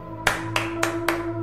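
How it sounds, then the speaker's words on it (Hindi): Four sharp hand claps ring out at an even, unhurried pace in a quiet dark room, each one crisp and close, with a faint steady hum underneath. "उसने अंधेरे में ताली बजाते हुए चुनौती दी"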